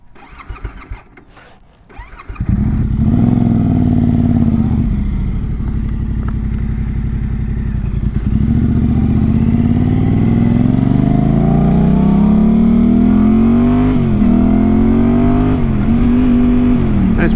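A Yamaha Tenere 700 motorcycle fires up after a few quiet seconds, then rides off with a loud, steady engine drone that climbs through repeated revving accelerations and gear shifts, close and continuous.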